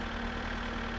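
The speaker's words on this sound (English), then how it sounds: "You gotta love the Kekmet. It is the ultimate tractor. It's only 73 horsepower, but man, is it torquey." A Kekmet tractor idles in the video game My Summer Car, its 73-horsepower engine a low, steady rumble with a faint regular pulse, heard close and unbroken through a short moment with no talking.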